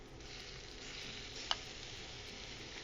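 Chicken sizzles quietly and continuously in a hot wok, a soft hissing crackle with one sharp tick partway through.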